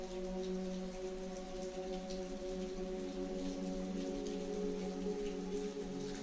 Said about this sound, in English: As the rain continued to fall outside, Olivia found solace in its rhythmic whispers.